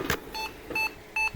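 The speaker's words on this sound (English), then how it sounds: "she gave a BIOS beep code" An IBM ThinkCentre M50 computer with a memory fault gives a BIOS beep code at power-up: three short, even electronic beeps in a row, loud and close, following a brief click.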